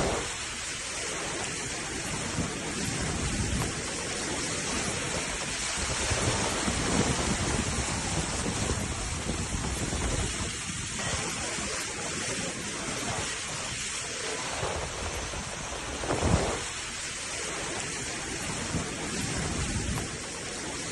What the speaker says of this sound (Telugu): ఈ నేపథ్యంలో అటు నెల్లూరు తిరుపతిలో కూడా భారీ వర్షాలు కురుస్తున్నాయి